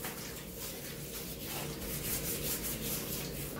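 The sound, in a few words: scrubbing a bathtub with baking soda and vinegar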